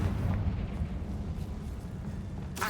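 A Confringo spell explodes in the Hogwarts Legacy video game, a deep rumbling blast that rolls on for a couple of seconds before a sharper burst near the end, with no talk.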